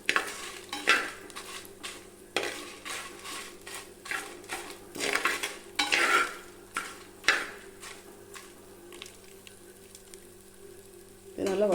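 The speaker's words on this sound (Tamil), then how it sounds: "இது நல்லா வாசம் வர வரைக்கும் வறுக்கணுங்க." Spices for a village-style country chicken curry being dry-roasted and stirred in a pan: repeated scraping strokes of a spoon against metal over a soft steady sizzle, fairly close, with no speech.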